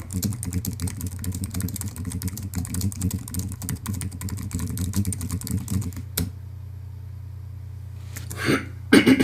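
Rapid keystrokes clatter on a computer keyboard for about six seconds, close and crisp, then stop as a low hum carries on and a brief rustle follows.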